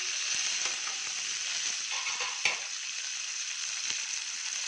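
Spices and green chillies fry in hot oil in a pan for wheat pongal, a steady close bright sizzle with faint stirring scrapes and small pops, no talking.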